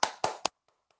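Three quick, close hand claps in an even rhythm, then silence apart from two faint taps, a small virtual round of applause over an online meeting connection.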